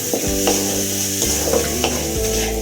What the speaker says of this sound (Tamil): வேக வச்சிருக்கிற பாசிப்பருப்பையும் அதை போட்டு அதை போட்டு கிண்டிக்கலாம்